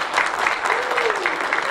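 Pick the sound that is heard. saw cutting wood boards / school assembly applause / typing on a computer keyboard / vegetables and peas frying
school assembly applause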